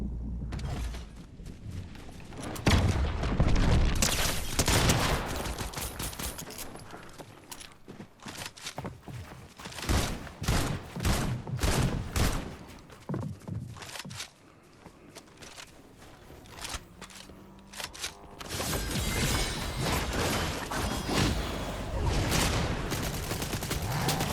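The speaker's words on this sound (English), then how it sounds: "This has such a high-powered gun." Fortnite gunfire from a high-powered gun comes in loud bursts of sharp shots mixed with mechanical clicks and creaks, with gaps between volleys over about twenty-four seconds.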